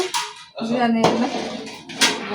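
A metal pot lid lifted and set down during biryani cooking, with sharp clanks at the start, middle and end amid continuous close conversation.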